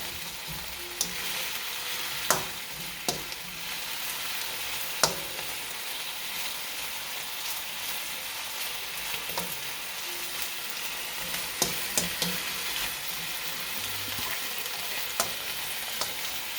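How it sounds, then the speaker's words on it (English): Onions frying in a pan for Chinese chicken with oyster sauce, a steady soft sizzle throughout with occasional sharp clicks of a utensil stirring against the pan, no voices. "Now we'll be cooking these onions until they start to soften up."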